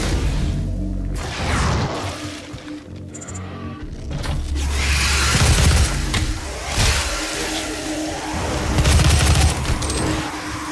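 Missiles firing in the video game DOOM, a loud, continuous barrage of whooshing launches and blasts that rises and falls over several seconds with no voices.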